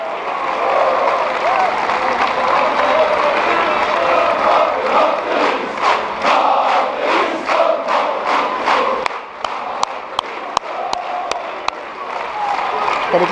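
A crowd applauds and cheers in a large hall, with dense sustained clapping and shouts, then a thinner patch of sharp individual claps before the applause swells again.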